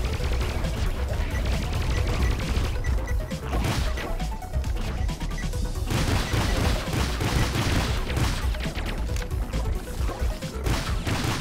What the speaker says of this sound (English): How are they shooting at me?